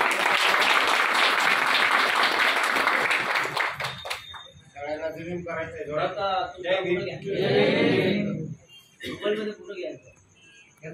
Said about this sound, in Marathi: सर्वांनी टाळ्या वाजवून त्यांचं